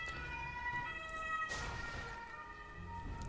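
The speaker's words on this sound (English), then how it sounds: "Please ignore the ambulance noises in the background." An ambulance siren near a hospital wails with a steady rising and falling tone, somewhat distant and faint, heard alone without speech.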